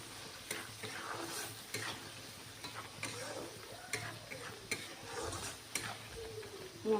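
Masala for a desi chicken curry, with onion paste, fries in a pan, sizzling quietly while a spoon scrapes and stirs it in irregular strokes, close and faint, without talk.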